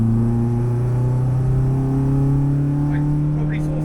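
A daily rental car's engine drones loudly and steadily from inside the cabin, a strong low hum with tones that shift in pitch as the gear changes through a corner, with faint voice traces on top.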